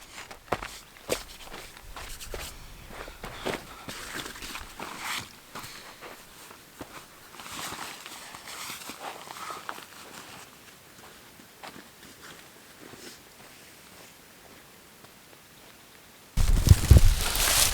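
Footsteps crunch steadily along a dirt hiking trail in the morning outdoors, an irregular walking rhythm close to the recorder with light rustling, ending in a burst of louder handling noise.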